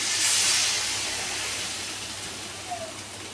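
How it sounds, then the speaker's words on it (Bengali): A loud hiss and sizzle of water being poured into a hot pan of egg and potato curry bursts out at the start, then slowly settles into a softer, steady simmer. "কষানো হয়ে গেছে, এখন জল দেওয়া হবে জলের জন্য।"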